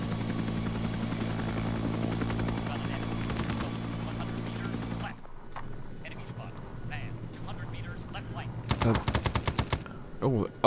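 Helicopter rotor drone and bursts of machine-gun fire in Arma 3 Prairie Fire, a Vietnam-era gunship battle; loud continuous rotor hum that drops off midway, followed by sharp rapid gunfire volleys near the end.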